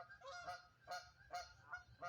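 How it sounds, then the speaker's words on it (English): Several honking waterfowl calls, likely a duck or goose, repeat roughly every half second in a loose rhythm, faint and somewhat distant outdoors in a nature setting with no talking. "Oh, I think that's a duck."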